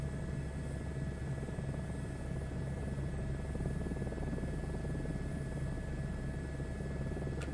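In Microsoft Flight Simulator 2024, a Pilatus PC-12 turboprop hums steadily in flight, a constant, fairly quiet engine drone with a faint high whine and no break.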